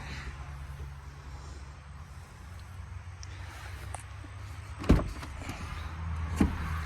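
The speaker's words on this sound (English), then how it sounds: "What's nice is that this rear door goes all the way back" Rear door of a 2023 Ford F-550 Super Duty XL SuperCab truck opening: a quiet unlatching, then a firm clunk at about five seconds and a lighter knock later, over low idle rumble.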